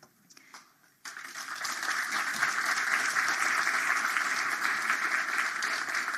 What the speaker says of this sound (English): Yes, I thought that deserved a round of applause